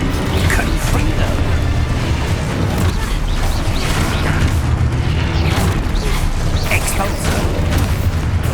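Confringo fire-blast spell explosions from the Hogwarts Legacy video game boom loudly and continuously, layered with rumbling, crashing game effects throughout.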